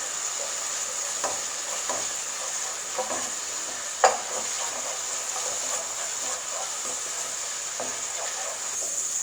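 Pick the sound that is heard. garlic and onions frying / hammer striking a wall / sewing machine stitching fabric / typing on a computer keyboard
garlic and onions frying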